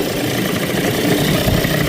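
A 1981 Sea King 7.5hp air-cooled outboard motor runs at a steady idle in neutral, a continuous close, loud mechanical drone with a rough low-end throb and no pauses.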